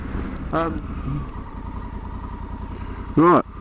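A 2020 Honda Africa Twin CRF 1100L adventure bike runs on the road, its engine a steady low drone beneath wind noise, with a rider briefly speaking over it twice.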